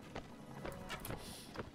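Horse hooves clip-clopping during riding in the video game Mount & Blade: Warband, several quiet, evenly spaced hoofbeats against faint background noise.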